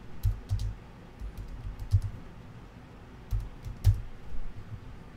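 Keys clatter on a computer keyboard during online poker play, in short bursts of quick taps, close and moderately loud, with brief pauses between runs.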